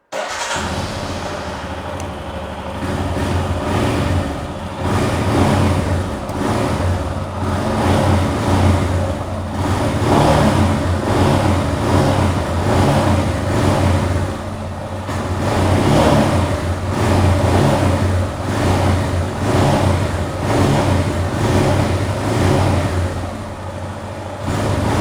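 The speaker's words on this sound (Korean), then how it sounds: "순정 어폴로의 배기 사운드 한번 들어보고요." A stock exhaust on a 2023 Royal Enfield Himalayan dual-purpose motorcycle runs close by, with a steady low engine throb and mild swells of revving throughout, no voices.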